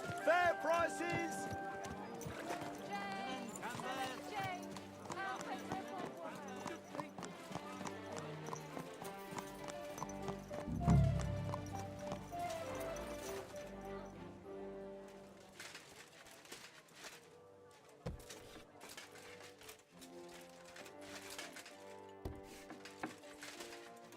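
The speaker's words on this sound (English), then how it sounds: "Watch out with that horse!" Horse hooves clip-clop in a bustling medieval town in Kingdom Come Deliverance 2, with a horse neighing, over background music and faint crowd chatter.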